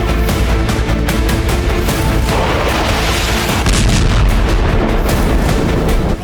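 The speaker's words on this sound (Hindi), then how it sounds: "धमाके सीरिया के अलेप्पो में हुए," Heavy explosions and artillery fire in Aleppo, Syria, as a loud, continuous barrage of deep booms and cracking blasts overlapping one another with no pause.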